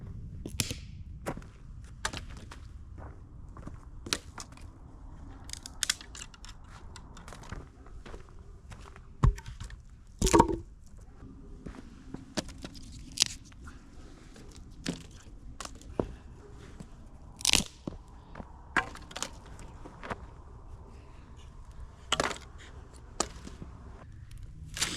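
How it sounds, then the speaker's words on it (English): Jute rope being shredded by hand for campfire tinder on a cold solo camping trip, giving repeated sharp tearing and snapping crackles at irregular intervals over a quiet outdoor background, with no talking. "I'm gonna have to start pre-shredding my jute rope"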